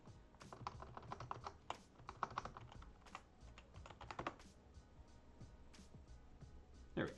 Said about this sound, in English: we can now type in the password